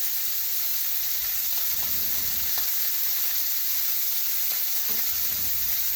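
Steak pan-frying with a constant, dense, hissing sizzle, and occasional soft clinks and scrapes from stirring or turning the meat.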